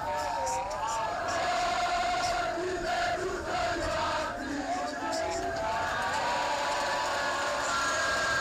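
A football crowd roars and cheers for a Gor Mahia goal celebration, a dense sustained wall of shouting and chanting from many voices throughout.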